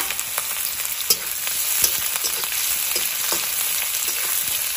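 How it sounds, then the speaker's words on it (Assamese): Sliced onions and green chillies fry in hot oil at the start of a Bengali-style pork curry, giving a close, continuous crackling sizzle broken by sharp pops and the odd stirring scrape. No voices. "এইফালে পিঁয়াজ পিঁয়াজ আৰু কেঁচা জলকীয়াত দিছোঁ"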